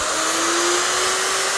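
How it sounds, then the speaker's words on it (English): A plunge router is switched on and spins up to running speed, giving a loud, steady, close high-pitched whine with a rising tone, heard alone. "Switch on, let the router reach running speed."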